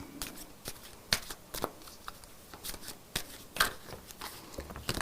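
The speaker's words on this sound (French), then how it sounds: "Avec des cartes qui sautent." Playing cards spill and are gathered back up in a quiet room, a string of soft papery slaps and flicks, some sharper than others, with a voice speaking briefly.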